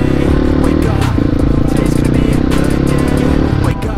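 A 250 cc motorcycle engine rumbles loud and close throughout, a steady low throb with rattling and wind noise as it rides along.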